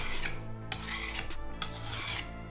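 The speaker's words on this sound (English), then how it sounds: "And you feel that file bite." A hand file rasps along the edge of a survival knife in steady back-and-forth strokes, close and fairly loud, with no talking.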